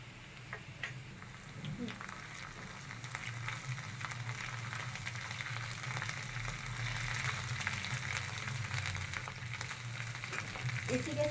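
Browned onions with ginger garlic paste fry on a hot tawa for qeema, giving a steady, soft sizzle with occasional spoon stirs and taps, faint and continuous throughout.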